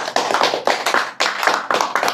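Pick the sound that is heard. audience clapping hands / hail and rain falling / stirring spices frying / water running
audience clapping hands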